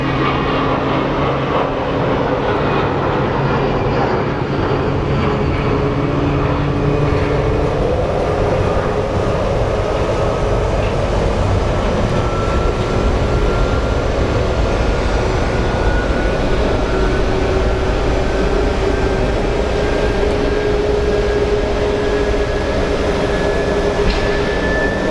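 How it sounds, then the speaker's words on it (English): Airbus A320 airliner at Phoenix Sky Harbor airport, a steady loud jet roar with a slowly rising whine that holds throughout, close and continuous with no talking. "Let's take a look at the A320 that's headed to Sacramento."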